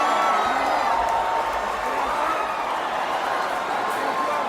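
A roaring baseball crowd cheers the Houston Astros' pennant win in a League Championship Series game, played back from a recording as a loud, dense, continuous wall of crowd noise with whoops.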